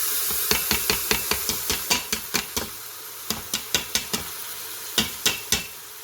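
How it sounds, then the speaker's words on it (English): Rice is stirred in a hot pot over a low sizzle, with a spoon scraping in quick, regular clicks that pause briefly, then resume a little more spaced out. "I'm going to throw the rice in there now."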